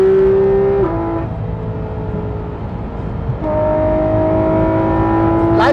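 A Porsche 991.2 GT3 RS flat-six boxer engine revs hard, pitch rising then dropping between gear changes, then climbing again in a loud, smooth howl heard from close by.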